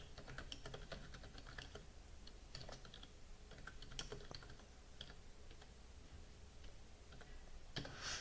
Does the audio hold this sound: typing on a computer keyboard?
yes